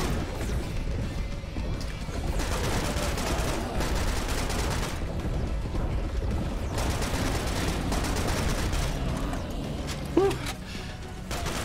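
Gunfire in the shooter game Serious Sam: Siberian Mayhem, dense bursts of rapid shots coming in clusters with brief pauses between, loud and close, over a rumbling game background with no voices.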